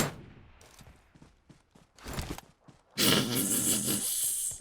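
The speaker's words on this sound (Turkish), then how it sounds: "Arka taraftan bir silah sesi daha geldi." Several sharp bursts of gunfire crack out in PUBG Mobile, then a sustained loud roar of rapid shots fills the last seconds, with no talking.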